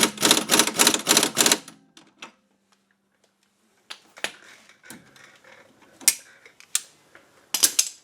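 Clicking from the front of a 1997 Audi A4 Quattro: a quick rapid run of loud mechanical clicks, then a pause and scattered sharper clicks and knocks close up.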